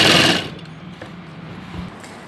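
A sewing machine stitches a blouse seam in a short, loud, fast whirring burst that stops abruptly, leaving quiet room tone.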